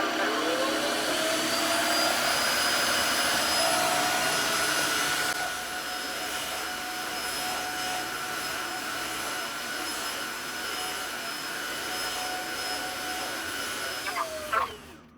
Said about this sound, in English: We have a working vacuum.